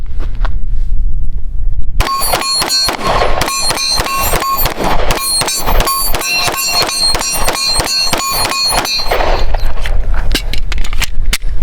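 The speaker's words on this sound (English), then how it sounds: "I'm rapid firing here, and these are 12-inch circle gongs" A Ruger RXM pistol fires rapidly at 12-inch steel circle gongs about 15 yards away, sharp loud shots each followed by a ringing metallic clang in a quick, uneven string.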